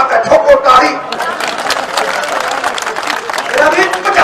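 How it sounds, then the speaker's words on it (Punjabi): Crowd applause at a Punjab political rally where Sidhu is speaking: clapping from a crowd, mixed with loud voices and shouting. "ਠੋਕੋ ਤਾੜੀ"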